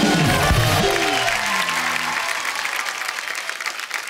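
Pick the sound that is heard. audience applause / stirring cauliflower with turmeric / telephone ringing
audience applause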